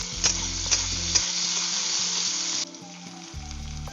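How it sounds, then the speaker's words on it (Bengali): Potatoes frying in hot oil for a Bengali fish-head murighonto, a loud steady sizzle close by with a few sharp stirring clicks early on, dropping to a quieter sizzle partway through. "আলুটা আগে ভেজে দিই"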